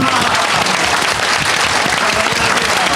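Sustained audience applause fills the room at a Gujarati poetry event in Chicago, celebrating a book release; dense, steady clapping from a crowd continues loudly throughout.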